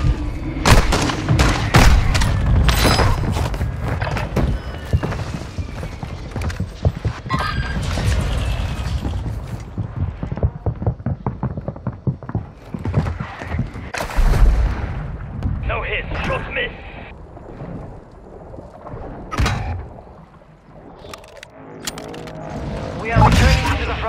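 Artillery fire mission in a video game: a barrage of heavy booms and gunfire thuds, loud and dense, crashing repeatedly for most of the stretch before easing near the end, with voices in the background.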